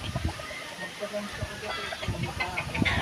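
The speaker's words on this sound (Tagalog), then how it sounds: "Dami ng manok dito ng kahanggan." Chickens, including fighting roosters, cluck near a farm hut, with short scattered clucks and calls over a busy background, while people talk nearby.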